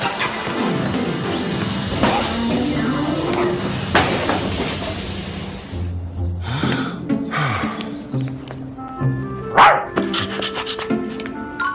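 A cartoon dog barks, snorts and gasps through a noisy comedy scene, with several sharp, loud barks scattered among rubbing sounds and scuffling effects.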